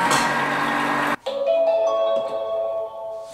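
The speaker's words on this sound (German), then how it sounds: "Und im Anschluss 20 Sekunden auf der Stufe 4." A Thermomix TM5/TM6 mixes Kaiserschmarrn pancake batter at speed 4, giving a loud, steady motor whir for about a second before it cuts off, followed by quieter tonal ringing.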